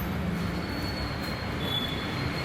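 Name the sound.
moving train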